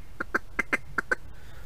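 A duck call mimics a lone mallard feeding: six short, clipped quacks in a quick, even rhythm, close and clear against a quiet background.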